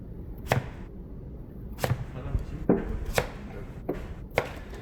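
Knife chopping radish on a cutting board for nabak kimchi, about six crisp, separate thuds at an uneven pace, close and clear with no voices.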